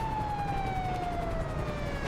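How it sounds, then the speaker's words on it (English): A police car siren in the video game GTA V with the LSPDFR mod, one steady wailing tone slowly sliding downward, loud and continuous over a rumbling engine bed, with no talking. "I'm trying to turn my sirens off."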